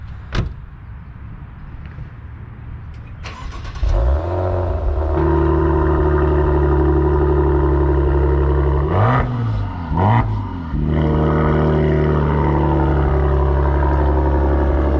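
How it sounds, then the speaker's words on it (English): A 2022 Maserati Ghibli Modena Q4 with a Ferrari-built V6 starts and idles with a deep exhaust rumble, exhaust valve open in sport mode, then revs sharply twice before settling back into a loud, steady growl. "So that is with the exhaust valve open in sport mode."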